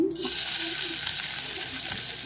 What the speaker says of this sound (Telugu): ఆనియన్ వేయాలి.